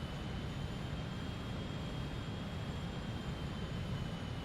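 Steady low rumble of an airplane on final approach to landing in a flight simulator game on Xbox, a constant engine and wind drone with no talk.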